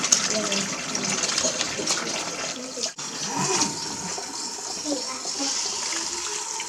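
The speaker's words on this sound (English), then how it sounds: "I'm going to put in just hot water. Let me get the water hot." Hot water running steadily from a sink tap, a continuous hiss and splash with a brief break midway, as a person talks.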